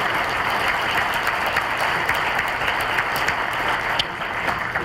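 A conference audience applauds steadily, a dense wash of many hands clapping that holds at an even level throughout.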